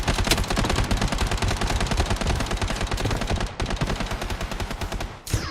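Rapid automatic gunfire in the shooter game Bloodstrike rattles on loudly and continuously, with dense overlapping bursts and a brief gap before a final shot.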